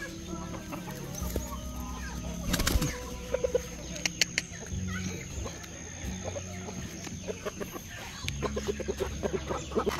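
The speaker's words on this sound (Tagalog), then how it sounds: "tawag nito, main tandang, itong ating burmis" Burmese gamefowl rooster kept as a main broodcock, clucking and calling close by with brief bursts of wing flapping, over steady outdoor background noise.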